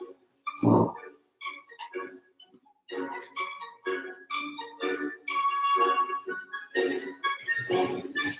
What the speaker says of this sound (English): Sorry, dog snoring.